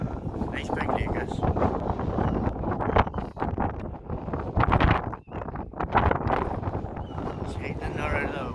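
Strong gusts over a big lake buffet the microphone with a steady low roar and rough rumbling throughout, while someone talks intermittently over it.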